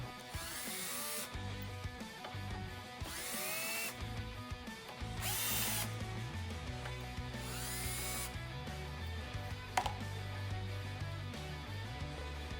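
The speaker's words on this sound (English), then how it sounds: "I like to get a cordless screwdriver with a long Allen wrench on it" A cordless screwdriver fitted with a long Allen bit backs bolts out of a toggle clamp on a welding fixture, making several short whirring bursts separated by brief pauses, close and fairly loud, with no speech.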